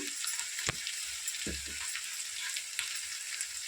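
Spices such as ground pepper, coriander powder and garam masala being stirred into chicken 65 pulao in a pan, with a steady frying sizzle throughout and a few soft scraping stirs and clinks, no talking.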